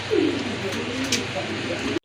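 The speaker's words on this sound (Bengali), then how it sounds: "টপ ক্লাস একটা মাদি কবুতর দেখেন" Pigeons cooing in a loft or market pen, low soft rolling coos repeating close by, with some chirps and a voice speaking over them.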